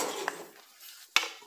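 A cooking pot being handled on a stovetop, with a soft clink early on and a sharper metallic knock near the end, both fairly quiet with a low hum between.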